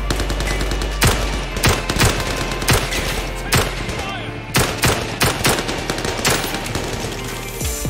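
Rapid machine-gun bursts rattle steadily for eight seconds, loud and close, in a VR shooter game, with sharper cracks punctuating a dense stream of fire.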